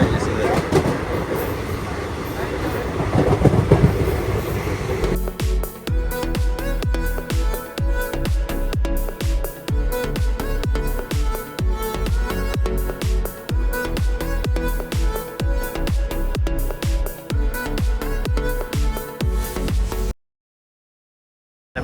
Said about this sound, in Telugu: ఇది ఏసీ డబుల్ డెక్కర్ ట్రైన్